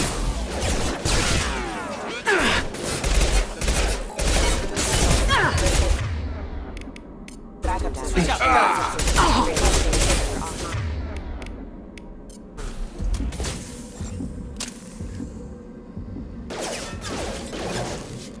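Gunfire against hostile mechs in Mass Effect 2: repeated bursts of rapid weapon fire and heavy impacts, loud and dense with brief lulls, layered with game effects and occasional character voices.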